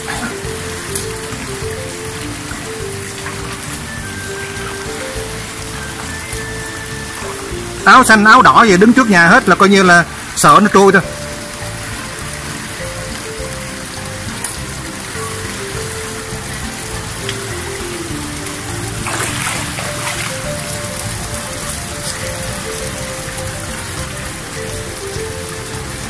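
Rain falls steadily on a flooded street in Phan Thiet, a continuous hiss with a brief louder burst of splashing, while someone talks over it throughout.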